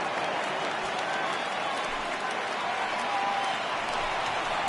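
A stadium crowd of over 39,000 in the video game MLB The Show 19 keeps up a steady roar of cheering and applause under a commentator's voice.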